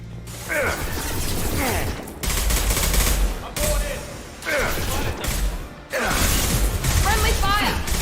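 Gunfire in the Mass Effect 2 video game: bursts of dense, loud rapid shots separated by short gaps, with game voices and effects mixed in.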